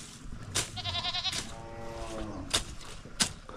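Goats bleat close by, two long wavering calls one after another, followed by a few short knocks and rustles in a quiet rural setting.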